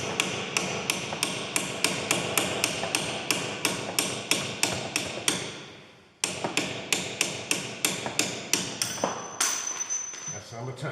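A hammer drives a punch against the front wheel bearing of a Peugeot 308, sharp metallic blows struck in a steady rapid rhythm, close and loud, with a brief pause midway before the strikes resume.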